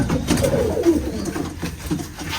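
Soft, low cooing of young golden pigeons close by on a farm, repeated murmuring calls over a faint background.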